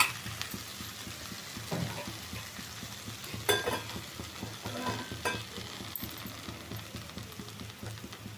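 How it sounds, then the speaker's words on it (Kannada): A tempering for basale greens saaru sizzles quietly in a pan, broken by irregular clinks and knocks of utensils at close range. "ಸಾರಿಗೆ ಒಗ್ಗರಣೆ ಹಾಕ್ಕೊಳ್ತೀನಿ."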